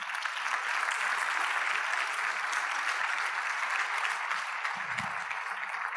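A church congregation applauds the Lord during a sermon, a steady wash of many hands clapping together at moderate volume that holds evenly for the full stretch.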